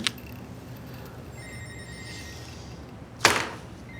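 A telephone rings without being answered: a faint electronic tone runs in the background, then a sharp, loud ring bursts near the end, and no one speaks.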